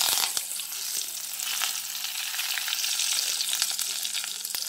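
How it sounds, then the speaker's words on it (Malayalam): Mustard seeds, dried red chillies and curry leaves frying in hot oil for a pumpkin and bean erissery, a continuous close sizzle with scattered crackles and pops, no talking. "ഇനി അതിലേക്ക് നമുക്ക് കടുക് ഇട്ട് കൊടുക്കാം"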